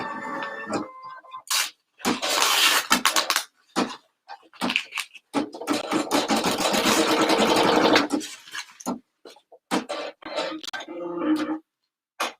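An embroidery machine stitches a bunny design directly onto stabilizer, giving close, rapid mechanical bursts broken by short pauses and a few quiet knocks.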